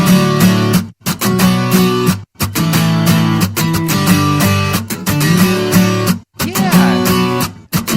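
Acoustic guitars and octave guitar parts play together in a full, dense pop punk chorus, loud and continuous, broken by a few short stops between phrases, with no talking.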